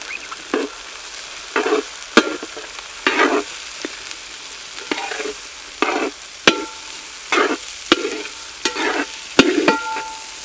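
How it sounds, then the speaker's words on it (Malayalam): About four kilos of shallots fry in a large pan for village-style chicken perattu. A spatula stirs and scrapes in intermittent strokes over a soft, steady sizzle, close by, with no talking. "നല്ലപോലെ മൂപ്പിച്ചെടുക്കാം."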